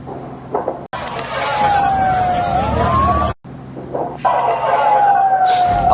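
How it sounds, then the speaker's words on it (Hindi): An emergency siren wails steadily during a wave of attacks in the Israel–Iran conflict, loud and continuous with a brief cut partway through, rising and falling over a low background rumble. "ये देखिए सायरन बज रहा है लगातार"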